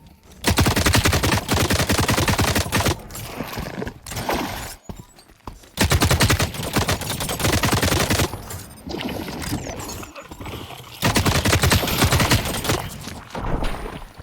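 Rapid bursts of automatic gunfire in The Cycle: Frontier, loud and close, firing in three long sustained volleys separated by brief pauses, with no talking.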